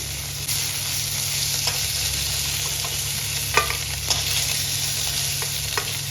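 Paneer pieces frying in a pan give a steady, close sizzle with occasional spatter pops and soft stirring scrapes, alone without talking, over a faint constant kitchen hum.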